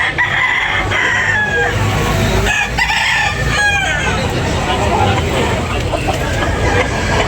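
Roosters crow repeatedly at a backyard chicken expo, several loud nearby calls overlapping amid a busy crowd murmur and people chatting in the background.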